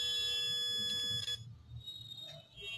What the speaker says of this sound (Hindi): वैल्यू दिखाया, बीप का आवाज़ आया और फिर बंद